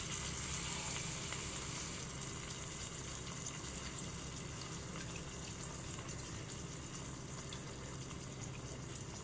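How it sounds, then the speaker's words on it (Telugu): Water poured into a mixer jar holding tomatoes for South Indian tomato rasam, a steady continuous rush of liquid close by, with no talking. "సో దీంట్లో కొంచెం వాటర్ యాడ్ చేస్తాను మిక్సీ జార్లో"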